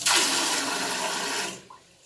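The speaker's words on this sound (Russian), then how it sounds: "Вот просто открыли кран и пользуемся." Water rushing from a freshly opened tap in a renovated bathroom, a loud, steady gush that fades and cuts off near the end, with no talking.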